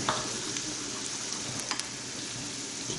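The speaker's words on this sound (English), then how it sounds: "We're going to go and add these potatoes in." Potatoes dropped into onions frying over medium heat in a pan for pumpkin soup with bacon, giving a steady, fairly quiet sizzle with small crackles and stirring clicks, close up and without speech.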